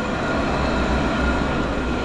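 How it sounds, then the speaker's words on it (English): A tram rumbles past on a UK city street at dinnertime, a loud, steady low roar of wheels and motor holding evenly throughout with no voices. "We've got a tram just going through here."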